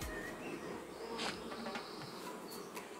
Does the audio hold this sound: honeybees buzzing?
yes